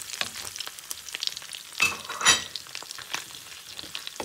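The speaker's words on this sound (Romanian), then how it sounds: "Acum deja când usturoiul a luat un pic de culoare, punem langostinos." Prawns (langostinos) frying in a pan with garlic that has just browned, Spanish-style, giving a steady crackling sizzle with stirring and a couple of louder hisses near the middle, close up and with no talk.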